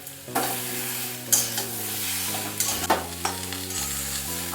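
Potato and eggplant pieces are stirred in a frying pan with mustard-oil sizzle, repeated loud scraping strokes of a spatula against the pan over a steady hiss, close and clear with no speech.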